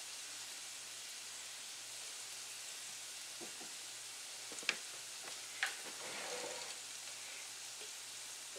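Vegetables being softened in a pan sizzle steadily at a moderate level, with a few small clinks and stirring sounds partway through and no voices.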